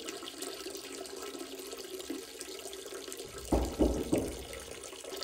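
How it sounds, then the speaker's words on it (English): A person urinating into a toilet in a comedic sketch: a steady trickling stream of liquid into water, with a few louder splashing bursts near the end and no talking. "I know y'all hear me pee."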